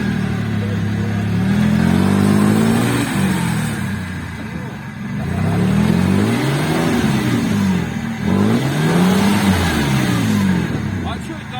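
An off-road car engine revs loudly in rising and falling surges while its wheels spin in a stream, the engine note swelling and dropping again and again, with people talking over it.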